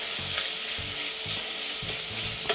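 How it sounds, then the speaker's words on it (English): Chopped bacon sizzles and fries steadily in a pan while being cooked down for bacon jam, a dense continuous crackle with soft scraping stir strokes recurring every half second or so, close and alone without voices. "So let's cook this down."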